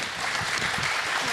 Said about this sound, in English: Okay, a big applause.